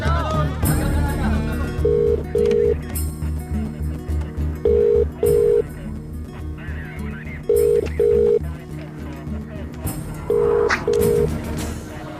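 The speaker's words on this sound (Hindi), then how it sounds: "फोन करना है। कर लो।" A telephone is dialed to place a call in a Hindi movie scene: short paired keypad tones repeat in regular bursts about every three seconds over a steady low background hum.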